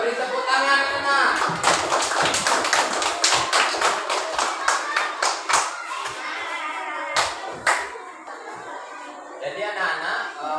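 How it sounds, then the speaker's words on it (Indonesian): Children clap their hands together in a classroom, a rapid scatter of sharp claps and taps running for about ten seconds with young voices chattering and laughing underneath. "beri tepuk tangan anak"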